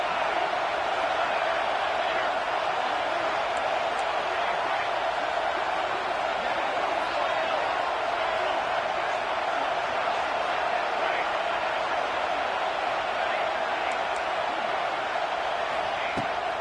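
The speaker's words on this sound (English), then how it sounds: "Decibels rising as the crowd gets behind this defense on 3rd down." Stadium crowd in the NCAA 26 college football video game with UCLA, roaring steadily on a third-down defensive stand; the dense noise holds level throughout, likely under play-by-play commentary.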